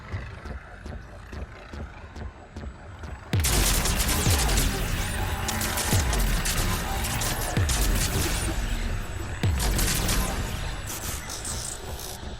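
Gunfire in the video game Mass Effect 3, in a scene with Geth fighter squadrons, starts with light ticking, then erupts abruptly into loud, dense fusillades with deep booming thumps roughly every two to three seconds, with talk faintly underneath.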